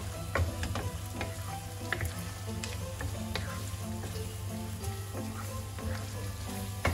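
Sherry vinegar sizzling and frying in a hot pan, a steady close crackle with scattered pops and light stirring clicks throughout.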